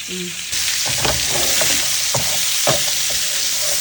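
Onions and peppers sizzle loudly in the pan used for burgers, a dense steady hiss close up, with intermittent scraping and clatter of stirring.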